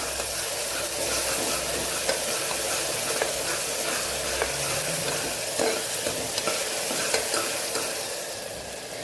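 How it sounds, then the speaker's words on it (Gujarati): Grated onion sautés in a hot pan, a loud, continuous close sizzle with scraping stir strokes throughout and no talking. "ડુંગળીને આપણે સાતળી લેવાની છે"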